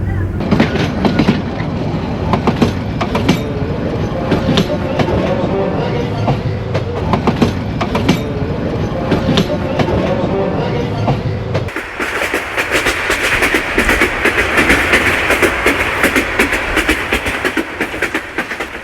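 The Burimari Express passenger train, on its Dhaka to Patgram run, rumbles loudly and continuously over the rails with rhythmic clickety-clack, its tone shifting to a brighter, hissing roar partway through.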